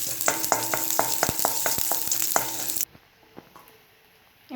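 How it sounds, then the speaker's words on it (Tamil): Garlic sizzles and crackles in hot oil in a pan for coriander chutney, with close stirring clicks and scrapes of a spoon, then the frying suddenly drops to a faint, quiet simmer with a few soft taps. "ஆயில் காஞ்சதுக்கு பிறகு பூண்டு ஆட் பண்ணிக்கலாம்"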